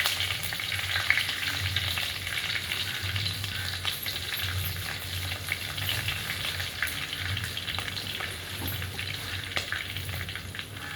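Curry leaves and dried red chillies sizzle and spit in hot oil, a steady dense frying hiss that stays close and continuous throughout, with occasional stirring scrapes and no voices.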